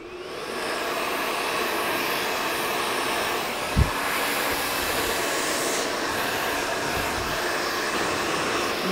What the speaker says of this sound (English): And I would actually blow dry it like that